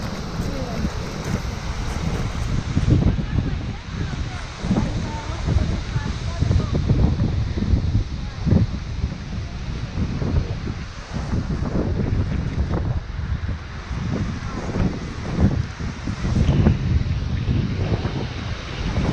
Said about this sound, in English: Seljalandsfoss waterfall